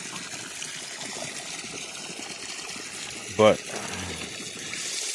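A hose fills a livestock water tank on a day of freezing rain, giving a steady rushing wash of running water. Someone says a single word partway through.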